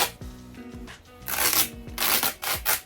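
Fabric torn by hand to make shorts gives short, close ripping and rasping bursts, growing louder and more continuous toward the end, with no talking.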